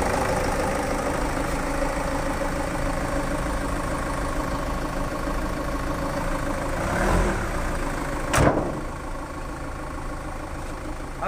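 A Land Rover Freelander 2 idles after a major service with a steady, smooth, even hum close by, broken only by a slight swell and a single sharp click near the end.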